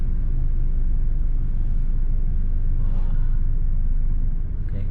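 A truck carrying heavy equipment on a city road in Batam rumbles nearby, a steady, loud low-pitched engine drone with traffic noise, continuous for several seconds.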